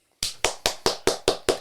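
Seven sharp hand claps in a steady, even rhythm, loud and close, each with a crisp attack and short decay, after a brief silence and with no talking.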